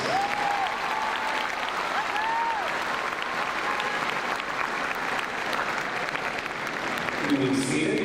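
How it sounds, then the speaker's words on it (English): A crowd at a high school graduation applauds the students with a steady, dense round of clapping throughout, some voices and whoops rising over it. "Please give the students a round of applause."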